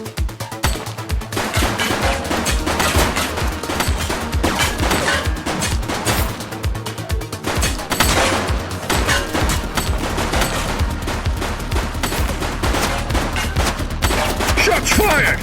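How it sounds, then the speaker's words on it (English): Loud, dense gunfire from the police video game The Precinct, with rapid shots and bursts running nonstop and close for the whole stretch. "He's shooting!"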